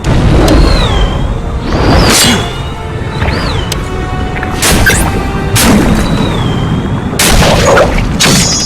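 Repeated heavy bomb explosions boom through a Spider-Man video game battle, loud and close, with whooshing swings and thwacks between the blasts and no talk.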